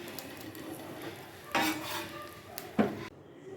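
Bread omelet being cut in a pan, a quiet sizzle under two sharp scraping cuts of a utensil against the pan, then sudden silence.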